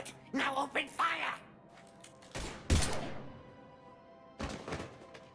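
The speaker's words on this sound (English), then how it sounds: "Now open fire!" Gunfire in the Mass Effect 3 video game: a couple of short, sharp bursts crack out midway and near the end, with brief voiced game dialogue at the start and quiet stretches in between.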